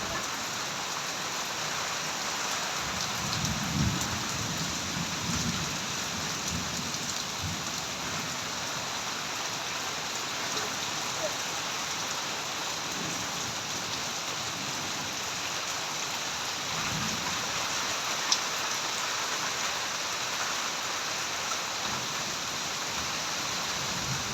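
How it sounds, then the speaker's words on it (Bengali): Steady rain falls, a dense continuous hiss with soft patters on nearby surfaces and no voices, unchanging throughout. "বৃষ্টি দিয়ে ঠান্ডা করে দিলেন ভিজিয়ে দিলেন সব কিছু"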